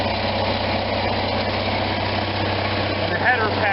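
RV engine idling steadily after a start with partial choke, a constant low rumble with people talking over it.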